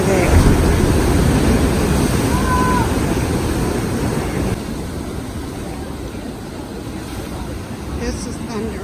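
Ocean surf at Thunder Hole, Maine, on a low-water day: a steady, loud wash of waves and wind buffeting the microphone, continuous throughout with a faint tonal whistle.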